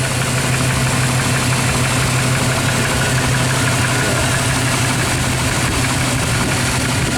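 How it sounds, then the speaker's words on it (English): A truck's Vortec V8 idles steadily at close range, a dense rumbling drone with a fine rapid ticking of roller lifters running throughout, loud and continuous with no talking. "typical roller lifter noise."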